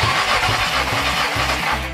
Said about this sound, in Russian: Производим замер компрессии на холодном двигателе.